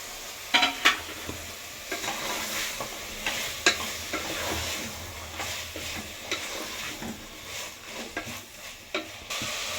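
Tomatoes and green chillies fry with ginger garlic paste in a pot for mutton biryani, giving a soft continuous sizzle broken by frequent scraping stirs and light clinks of a spoon against the metal, with no one talking.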